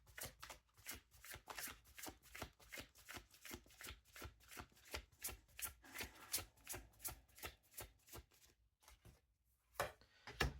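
Tarot cards being shuffled in a long run of quick, crisp riffling bursts with a steady rhythm, close and clear, broken by a short pause near the end before a few more flicks.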